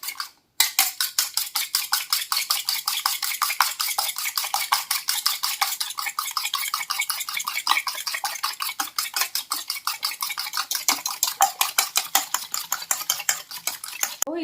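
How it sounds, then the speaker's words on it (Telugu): Eggs beaten by hand in a bowl until foamy, for an egg pickle, a fast steady stream of close, bright whisking clicks and scrapes against the bowl that runs without a break and with no voices. "సో లమ్స్ ఏం లేకుండా బాగా ఫోమ్ వచ్చేలాగా మనం బీట్ చేసుకోవాలి."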